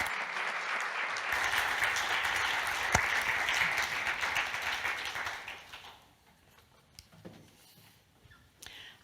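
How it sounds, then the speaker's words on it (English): A congregation gives a sermon speaker a round of hand applause. The clapping is loud and steady for about five seconds, then dies away, leaving a quiet room with a few scattered taps. "Why don't we give another enthusiastic hand of applause?"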